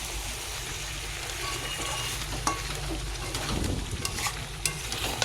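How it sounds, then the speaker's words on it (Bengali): Meat being slow-fried and stirred in oil in a pan until it browns and releases its fat, a steady close sizzle with scraping stirs and occasional clinks, no talking. "তো আমার মাংসটা অনেকক্ষণ ধরে কষিয়ে নেব।"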